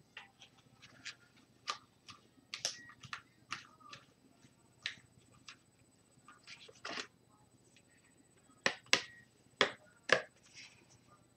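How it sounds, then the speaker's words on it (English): Tarot cards are shuffled and fanned out, giving a run of quiet, sharp snaps and flicks that grow in clusters, louder toward the end. "let me fan these out"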